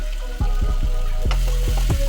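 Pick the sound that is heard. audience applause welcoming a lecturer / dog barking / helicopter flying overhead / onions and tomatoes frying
onions and tomatoes frying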